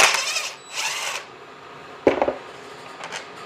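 A power tool whirs in two short bursts as it backs out the front handle screws on a Nosfet Aero, followed by light clicks and handling noises, close and fairly quiet.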